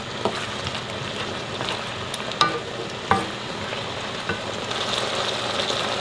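Zucchini and spaghetti being stir-fried in a pan with salt, a soft steady sizzle with a few sharp clinks of a utensil against the pan.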